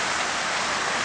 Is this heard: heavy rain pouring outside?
yes